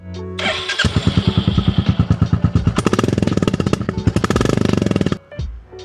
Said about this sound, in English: Now I'm going to start the bike. You can hear the exhaust sound now.